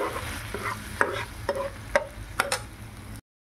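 Ingredients for toor dal being sautéed in a hot pan, a soft sizzle broken by five or six sharp clinks and scrapes of a spoon stirring against the metal, then sudden silence.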